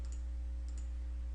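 Two faint, quick clicks come from the keys of a TI-83 or TI-84 calculator as numbers are typed in, under a steady low hum.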